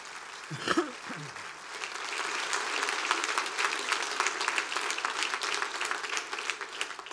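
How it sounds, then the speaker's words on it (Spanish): Big round of applause for the Lord from a church congregation during a sermon, sustained dense clapping that swells and holds steady after a brief voice at the start. "Deme un aplauso grande al Señor"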